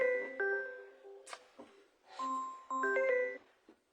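An incoming call ringtone on a phone, heard at a card-making craft table as a run of bright, tinkling electronic chime notes in repeated bursts, moderately loud and close, with no one talking over it.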